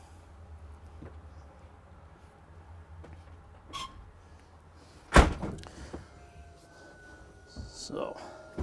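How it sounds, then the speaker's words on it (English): A generator compartment door on a 2020 Newmar Essex 4551 motorhome is shut with a single sharp slam midway. Quieter clunks and rattles surround it, and someone speaks nearby. "maybe shut the door"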